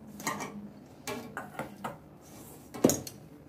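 Coriander leaf paratha dough being mixed with oil by hand in a bowl, giving soft scrapes and faint clinks in a quiet kitchen, with one sharper knock near the end.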